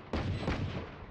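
A grenade goes off in a hectic online shooter match, a sharp booming blast with a rumbling tail, followed by a second burst half a second later, all within about a second.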